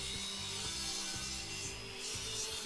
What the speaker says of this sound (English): Here I have raised the blade up on my radial arm saw. I then cut across the wood